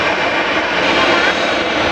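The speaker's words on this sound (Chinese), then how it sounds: "飞机现在开始滑行，滑向这个起飞跑道。" Airplane engines at a regional airport in Yulin, Guangxi, as the aircraft begins taxiing toward the runway: a loud, steady, broadband turbine roar with a hissing whine, close and continuous throughout.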